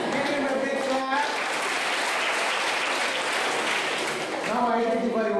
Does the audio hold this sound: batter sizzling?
no